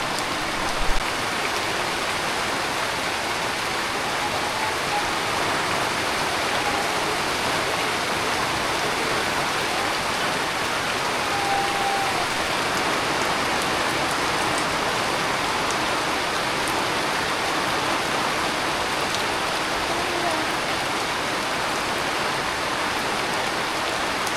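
Rain falls heavily and continuously, a dense, unbroken hiss like water pouring onto surfaces, with no voices.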